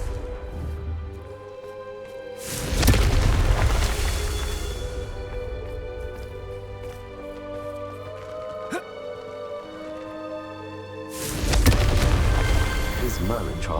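Two loud, booming blasts from the Confringo spell in Hogwarts Legacy erupt several seconds apart, each a sudden broadband burst that decays slowly over a low ambient game soundscape.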